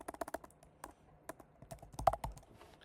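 Keys clatter on a computer keyboard in a quick, uneven burst of taps, quiet and close, with a short pause midway and no speech.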